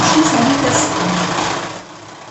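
Electric mixer whisking egg yolks at low speed 1 for a chocolate mousse cake, a loud, even close whir that fades slightly near the end.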